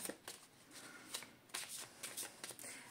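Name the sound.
cutting and shuffling Tarot de Marseille cards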